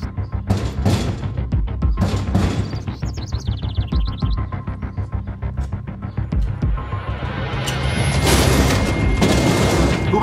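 A rapid burst of gunfire rings out at a ranch, dense repeated loud shots and booms crowding together over about ten seconds, growing rougher and noisier toward the end, with a brief high chirping sound early on.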